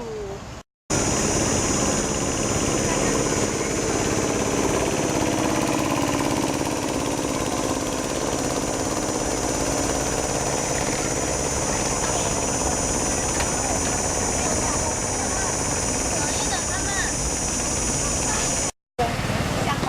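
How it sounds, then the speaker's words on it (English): A supercar engine drones steadily and loudly for nearly twenty seconds as the car is driven, with a constant, unbroken roar and only a brief cut near the start and end. "Now I will drive my supercar, which is a wonderful example to present it to all of you."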